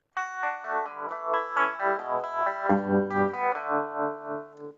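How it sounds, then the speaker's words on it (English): Electric guitar chords ringing out through an envelope-controlled tremolo effect, the pulsing throb slowing as the notes fade, played alone and fairly loud. "as the signal decays, the tremolo slows down"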